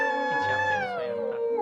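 A Sphynx cat lets out a single drawn-out meow-like cry that slides gradually downward in pitch and is heard clearly on its own.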